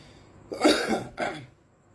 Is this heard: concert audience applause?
no